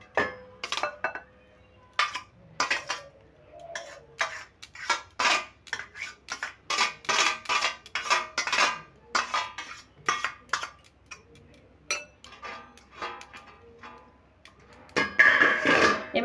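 A spoon scrapes and clinks against a bowl while mixing ingredients with boiled Maggi noodles for pakoras, irregular bursts of knocking and rattling separated by short pauses, close and fairly loud.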